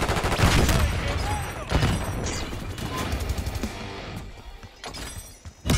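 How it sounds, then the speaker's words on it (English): Shotgun blasts and other gunfire in a multiplayer shooter video game, sharp repeated bursts with a dense crackle of battle noise, loud and close, without speech over them. "I'm running around headshotting kids with a shotgun."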